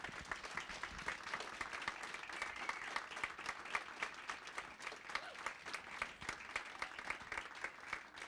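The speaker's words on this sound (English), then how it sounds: "I'd like to have one more round of applause for Lisa" An audience applauds after a university faculty lecture, dense sustained clapping from a full room that holds steady throughout at moderate distance, without speech.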